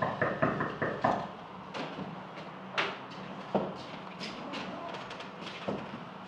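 Staged knocking on a door during a poetic stage performance: a quick burst of several close knocks, then scattered single thumps and knocks over a quiet room background, with no speech.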